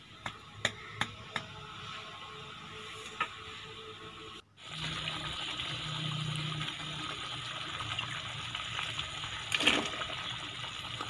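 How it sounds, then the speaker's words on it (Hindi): Water is poured into a pan of peanut curry: a steady gushing stream starts abruptly partway through and continues, with a few sharp utensil clicks before it begins. "अब इसमें थोड़ा पानी लगा देंगे।"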